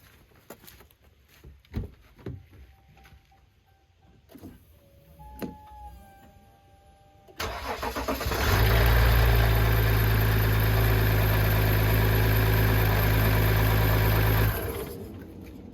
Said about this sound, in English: 6-cylinder diesel pickup engine.